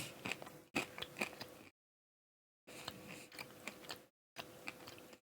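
Crunchy soybean snack chewed close to the mic in brisk bursts of crisp crackling bites, separated by short pauses of silence.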